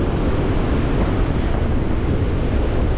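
Strong outdoor wind roars steadily and close, a dense unbroken rush of gusting air buffeting the microphone for the whole stretch, with no voices.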